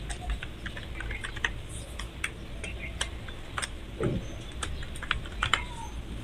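Keystrokes on a computer keyboard as text is entered in an Illustrator text-effect session, a quiet, irregular run of light clicks with scattered sharper taps over a soft background hum.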